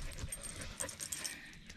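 A Goldendoodle dog whimpers and pants in short soft bursts outdoors after digging out a stump, the faint yips and breaths close by over light background noise.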